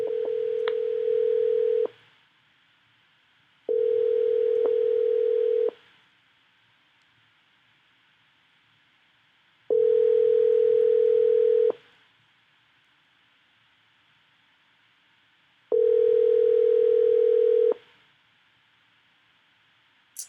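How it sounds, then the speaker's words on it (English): A telephone call rings out on the line, four long steady tones separated by regular silences, clear and alone with no one speaking. "Let me make this last ditch effort to make this phone call real quick."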